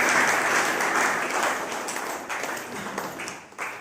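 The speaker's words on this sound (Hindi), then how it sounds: "एक बार अपने लिए जोरदार तालियां" An audience gives loud applause at a gathering on honourable old age, with dense clapping that swells at first and gradually thins and fades toward the end.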